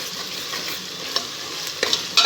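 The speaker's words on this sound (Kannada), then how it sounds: "ಚೆನ್ನಾಗಿ ಫ್ರೈ ಮಾಡ್ಕೊಳ್ಳೋಣ." Onions frying in a pan for biryani, salted and already turning reddish, give a steady, close sizzle with a few sharp spatula scrapes near the end; no one speaks.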